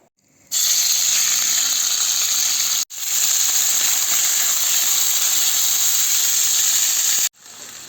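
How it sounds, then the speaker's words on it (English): A steady, loud hiss of rolling water and steam from a pot boiling for pasta fills the space, close by, broken only by two brief gaps. "Water is boiling for pasta."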